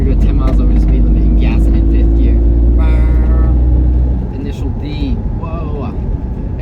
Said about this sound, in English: We're gonna go 10 miles over the speed limit and gas it in fifth gear.